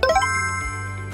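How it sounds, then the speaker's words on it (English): A short electronic chime from a ZeroKey Quantum RTLS mobile unit rings out, a quick rising run of bright tones that settles into a sustained ringing note. "an alarm will chime"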